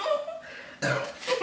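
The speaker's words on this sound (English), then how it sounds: "If I burp, y'all, I burp." A burp during a Mexican food mukbang: a short, close, throaty belch partway through, framed by brief bits of voice and chuckling before and after.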